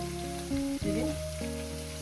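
Food fries in a pan with a soft, continuous sizzle partly masked by tonal background music.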